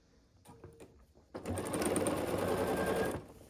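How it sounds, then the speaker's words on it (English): A sewing machine joins stacks of quilt blocks, starting with a few faint stitches and then running in one steady, close burst of nearly two seconds before stopping. "And then I'll take these two stacks and sew them together."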